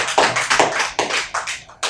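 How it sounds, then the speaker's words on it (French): A small audience at a medical council handover ceremony claps briefly, with about eight distinct, close, uneven hand claps in under two seconds. "Je pense que ça s'applaudit."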